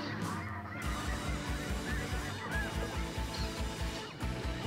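Canada geese honking repeatedly in a steady rhythm, loud and close, calls overlapping throughout a duck and goose hunt setting with no talk.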